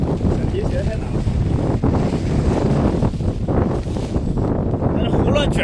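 Strong wind roars without pause across a snowy mountain campsite at Guanshan in Shaanxi, buffeting the microphone with loud, dense gusts close up.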